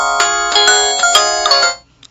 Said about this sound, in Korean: 어머니께서 전화를 하셨습니다